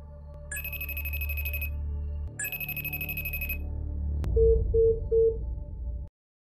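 A telephone ringing at night, loud electronic ring bursts repeating in two long trills, then a shorter patterned tone of three beeps, alone with no voices.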